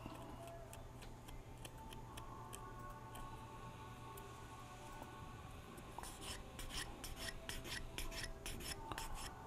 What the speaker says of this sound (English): And all I'm doing is getting rid of the little bit of loose plastic that it rolled up from filing it.